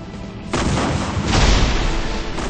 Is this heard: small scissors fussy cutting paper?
no